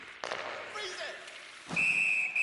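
A referee's whistle in an NHL hockey video game blasts loud and sustained for nearly a second near the end, following muffled talk and a few dull thuds.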